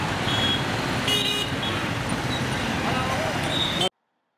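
Busy street traffic in Nepal, with cars, motorbikes and scooters lined up at traffic lights idling and passing nearby, a brief horn toot and voices mixed into the steady roar.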